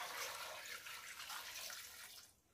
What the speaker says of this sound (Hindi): साथ ही एक जग पानी इसमें डाल देंगे।